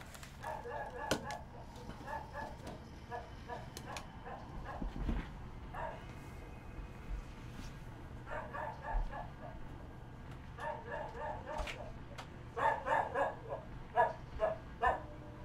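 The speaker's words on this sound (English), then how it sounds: "do I need to go take care of my dog? He's like crying again." A dog whining and barking in repeated bursts of yips and cries somewhere in the room, mixed with background game sound.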